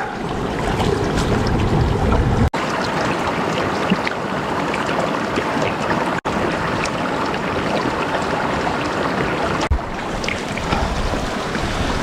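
Steady rushing of river water flowing in Antioquia, a continuous loud wash with a few brief dropouts and no voices.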